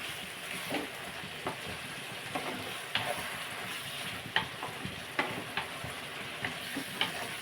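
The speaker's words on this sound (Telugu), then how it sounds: "ఇవి కూడా బాగా టమాటా ముక్కలు వంకాయలు మగ్గిపోతాయి" Brinjal and tomato pieces fry in a pan with a steady sizzle, broken by several sharp scraping clicks from stirring.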